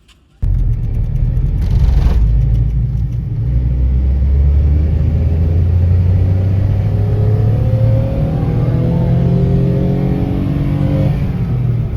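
A car engine roars to life after a moment of quiet, then revs loudly and steadily for several seconds, its pitch climbing and falling as the throttle is worked, close and unaccompanied by any voices.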